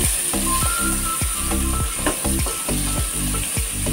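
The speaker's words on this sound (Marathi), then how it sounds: "आता इथे मी भांड्यात मी थोडं तेल घालून घेतलंय आणि आपण हे कांदे 4 उभे चिरून घेतलेत ना ते चांगले ब्राऊन रंगावर" Sliced onions frying in oil in a pot give a steady, loud sizzle, with repeated scraping stir strokes in a regular rhythm throughout.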